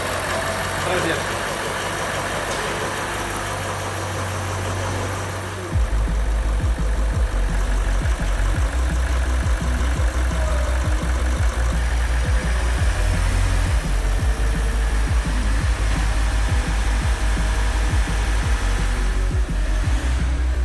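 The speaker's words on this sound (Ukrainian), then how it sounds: "двигун на Audi SQ7 ми запустили" A 2021 Audi SQ7 engine idles after repair, a steady low rumble with a constant hum that rises in level and holds from about six seconds on, while a few people talk nearby.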